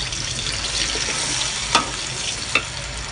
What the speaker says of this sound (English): okay, tumis ni semua